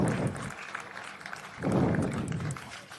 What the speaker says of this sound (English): A big round of applause for Roy, Lisa and Cherry